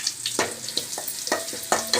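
Garlic, dried red chillies and curry leaves temper in hot oil over a low flame, a close, steady sizzle broken by sharp crackling pops and spits that come every fraction of a second, with no voices.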